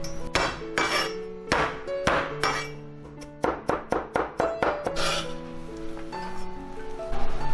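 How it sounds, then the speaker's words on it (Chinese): A knife chops garlic into a fine mince on a cutting board, with sharp close knocks coming first in scattered strikes and then in a quick, even run of blows. "再来剁一些蒜蓉"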